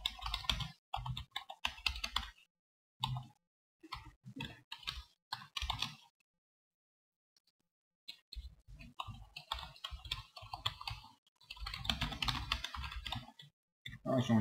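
HTML code typed on a computer keyboard, a rapid patter of close key clicks in bursts with a brief pause in the middle, fairly quiet and with no talking.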